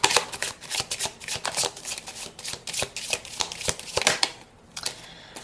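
Oracle mirror cards being shuffled by hand in a steady run of crisp riffling flutters, close and fairly loud, with a brief pause near the end and no talking.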